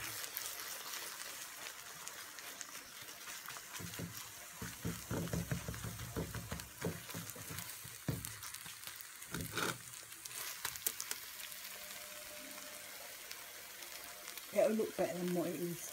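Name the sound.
eggs poured into a pan and frying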